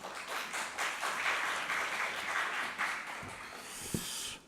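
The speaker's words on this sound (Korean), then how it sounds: "큰 환영의 박수 부탁드리겠습니다" A church audience claps in welcome for a visiting pastor, with sustained applause rising and holding, then thinning toward the end with a couple of sharper knocks.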